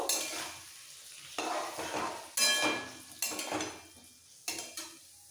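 Potatoes and ridge gourd with spices are stir-fried in a pan, with five or so distinct scraping, clinking strokes of a spatula over a fading sizzle, near and fairly quiet, without speech.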